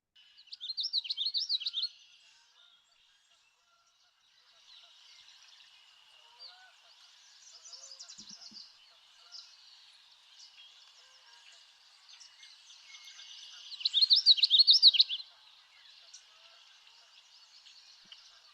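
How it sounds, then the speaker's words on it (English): Warbler song played from a recording, bright high trilled phrases repeating in bursts, loudest near the start and again later, with quieter song fragments between and faint background. "It's one of the few warbler songs that I have no difficulty remembering what they are."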